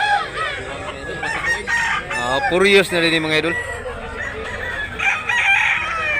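A big yellow-legged rooster crows loudly and close by at a poultry market in Tabunok, Talisay, Cebu, one long rising crow in the middle, with other fowl calling and someone talking over it.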